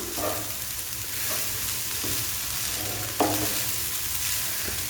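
Egg fried rice with black pepper being stir-fried in a pan, a steady close sizzle with scraping stirs and occasional sharp clinks of the utensil.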